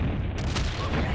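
A big pistol fires in the video game Grezzo Due, producing one loud booming shot that fills the short moment, up close and heavy.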